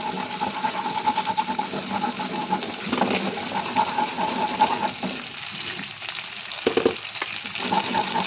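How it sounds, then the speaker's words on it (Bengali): Ginger and green chilli frying in a pan, giving a continuous close crackling sizzle with a faint steady whine running underneath. "আদা কাঁচা লঙ্কাটা ভাজা হয়ে গেছে"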